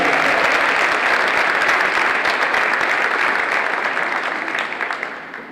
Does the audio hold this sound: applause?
yes